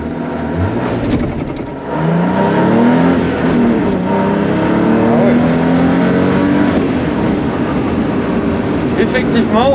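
A backdated Porsche 911 on a closed road, its engine droning and then pulling harder with rising pitch through the gears, loud and close from inside, with voices talking over it.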